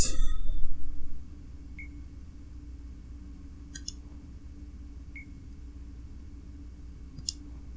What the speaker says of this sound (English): Do you hear that beeping?